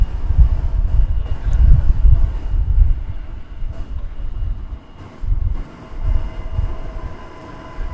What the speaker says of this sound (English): this is Flight 1209 arriving from Albuquerque, New Mexico, an Airbus, sorry, a Boeing 737-800